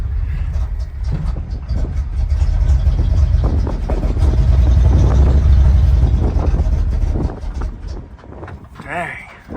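An old IH Loadstar crew-cab truck, parked for 30 years, runs rough in gear, its low engine rumble swelling and sagging unevenly under a voice before tapering off.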